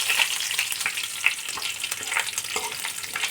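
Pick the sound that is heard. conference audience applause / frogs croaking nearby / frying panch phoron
frying panch phoron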